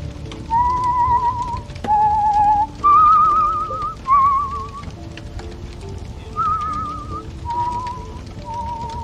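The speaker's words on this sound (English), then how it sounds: "You whistle yourself like that very often?" A person whistles a wavering melody in short phrases with brief pauses between them, alone and fairly close, with no talking.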